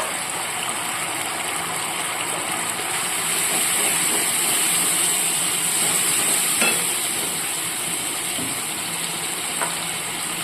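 Tomato masala frying in a pan in a Bengali home kitchen produces a loud, continuous broadband sizzle with no talk. A few faint clicks punctuate it.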